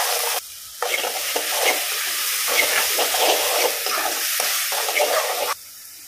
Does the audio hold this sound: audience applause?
no